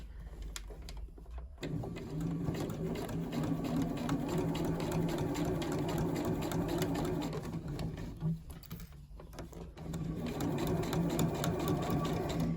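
A home sewing machine stitches the seams of a skirt in a steady, fast whirring run with a brief pause near the start and another around the middle, the motor close and fairly loud with no voices.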